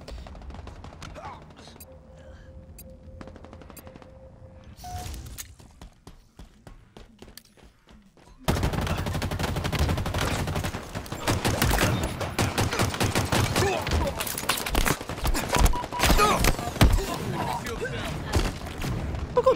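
Rocket launcher fire in the shooter game Halo Infinite, scattered shots and clicks before a sudden loud onset of rapid repeated blasts and explosions that continue densely to the end.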